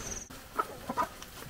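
Free-ranging village chickens cluck outdoors in a few soft, short calls against a faint background hiss, moderately distant.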